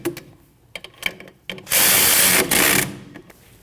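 Loud burst of a power tool whirring for about a second as it tightens 14mm brake bracket bolts on a Subaru Forester's rear brakes, after light metallic clinks and handling noises, close and alone.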